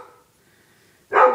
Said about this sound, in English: I'm sorry about the dog.